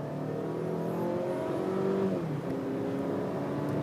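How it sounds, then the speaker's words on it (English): A 2018 Volvo XC60 AWD SUV accelerates hard from a stop, its engine giving a loud, steady drone that climbs in pitch, heard from inside the cabin with no talking. "I'm going to give it a bit of a heavy acceleration so you can see the feel"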